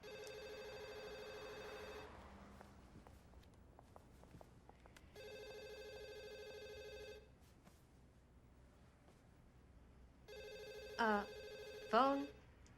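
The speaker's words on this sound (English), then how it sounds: "Phone?" A telephone rings in three separate bursts of steady electronic trilling, with quiet movement between rings and a couple of short chirping tones near the end.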